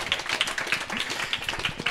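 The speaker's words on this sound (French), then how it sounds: "on va tous s'applaudir mutuellement" A small audience at a business breakfast for entrepreneurs applauds one another, a brief, fairly faint patter of many hands clapping heard up close and continuously.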